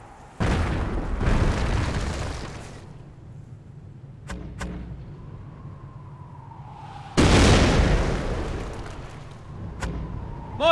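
Mortar barrage explosions in the video game Company of Heroes, deep booming blasts that strike in a few heavy bursts, each followed by a rumbling tail and short, sharp cracks between them.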